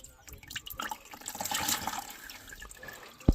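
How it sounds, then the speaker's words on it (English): DSG transmission fluid drains from a 2006 Jetta into a plastic tote, a brief close splashing trickle that ends in a sharp knock. "Let that drain, and then we'll measure what we have in this plastic tote."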